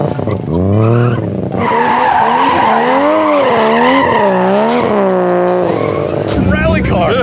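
Tires squeal in long wavering howls as a car does donuts, engine roaring underneath, with voices talking over it.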